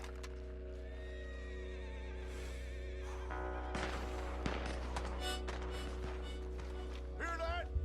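Horses ride into a Western town in Red Dead Online, whinnying and snorting over galloping hoofbeats, with a steady low rumble throughout and a sharp neigh near the end.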